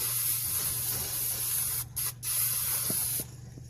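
Spray can laying a dusting coat onto metal embossing in a hot workshop: a steady, close hissing jet lasting several seconds, broken by two brief stops, then easing off at the end, with no talk.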